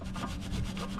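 A wire brush scrubs rust from the rear brake parts of a 2018-2024 Toyota Camry in a steady, close, continuous rasping rub with no pauses and no talking.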